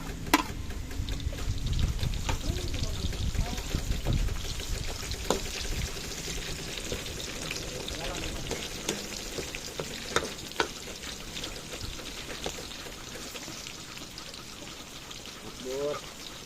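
Onions fry in a pan with a steady close sizzle and occasional spatula scrapes and taps, while a person talks intermittently over the cooking.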